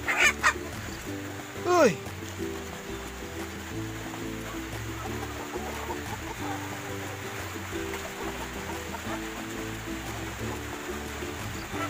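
Rhode Island Red hens cluck in a farm coop, a few loud calls near the start and a rising squawk around two seconds, then a steady low murmur of birds; one brief exclamation from a person.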